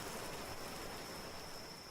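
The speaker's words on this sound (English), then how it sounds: "The rain starts to die down and the clouds part" Rain falls as a soft, steady hiss, with no distinct drops standing out, tapering faintly as it begins to die down.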